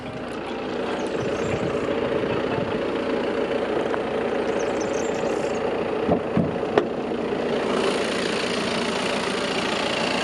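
A 190-horsepower two-litre diesel engine, mounted lengthwise in an Audi A4 Allroad B9 facelift, idles steadily at close range, a continuous rumbling drone with a few faint clicks and knocks partway through.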